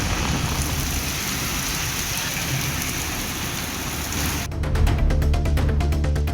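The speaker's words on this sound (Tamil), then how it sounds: "பெய்த மழையால் வெப்பம் தணிந்து குளிர்ச்சியான சூழல் நிலவியது." Steady, loud rain falls during a half-hour-plus shower in rural Tamil Nadu villages, a dense continuous hiss that thickens into heavier drumming on a surface toward the end, with no voices.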